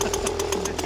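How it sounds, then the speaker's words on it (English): An old 1950s chainsaw cuts into wood during carving work, with a steady droning engine tone held throughout and a series of regular rasping bursts, loud and close, while talk carries on over it. "And we're back to the 50s with the old chainsaw"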